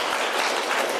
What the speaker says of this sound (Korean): 한번 박수해 주시기 바라요.